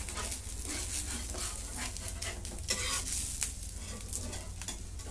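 Rice flour amboli roasting in a pan, with a steady close sizzle and soft scraping from a spatula as it is loosened and turned over, with no talk.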